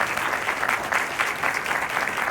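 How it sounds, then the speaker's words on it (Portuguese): Applause for Germana from an audience at a court regulation event, a loud, continuous burst of many hands clapping close to the microphone. "eu queria palmas para a Germana."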